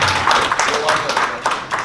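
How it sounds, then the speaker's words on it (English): Wedding reception guests clap in a short burst, a handful of close, uneven claps mixed with chatter and voices in the room. "That deserves a round of applause"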